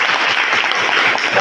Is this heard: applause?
yes